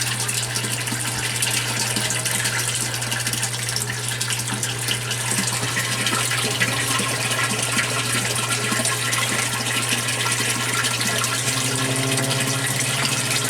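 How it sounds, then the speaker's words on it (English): Water gushes steadily as an aquaponics grow-bed tank drains through a bell siphon and bottom pipe, making a loud, continuous rushing flow with a constant low hum underneath. "the bottom pipe just started the draining cycle on tank number 2"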